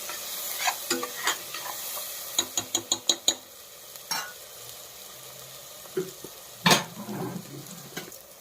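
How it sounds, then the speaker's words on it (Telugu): Coriander powder frying in a tempering of oil in a pan for a country chicken curry, a low sizzle under a run of sharp spoon clinks and scrapes against the pan, some in quick bursts, with no talk. "మంచిగా గోలాలి, పచ్చి వాసన పోయేదాకా"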